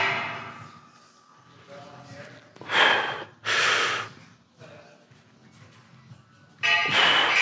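Heavy, forceful breathing after a push jerk during a weightlifting workout, with loud close exhales and gasps separated by quieter panting.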